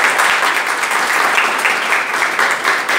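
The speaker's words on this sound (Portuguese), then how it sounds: "eu quero uma salva de palmas para ela" A group applauds in a classroom at a state school gathering in Pato Branco, a loud, dense, continuous patter of many hands clapping close by that lasts throughout.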